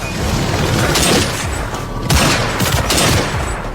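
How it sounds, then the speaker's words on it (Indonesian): A loud, dense burst of gunfire, rapid shots blending into a continuous crackling roar with sharper cracks standing out, close and intense. "tembakan Sang Biao meleset dengan sempurna."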